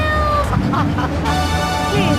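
In a Grand Theft Auto 3 in-game advert, a cat meows a few times over a steady music bed while a voice talks alongside it, the meows rising and falling in quick bursts near the front.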